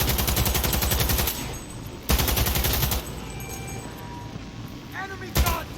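Gunfire in the video game Cyberpunk, with dense rapid bursts of shots crackling through the first seconds, a renewed loud volley around two seconds and a late sharp burst, all under shouting voices.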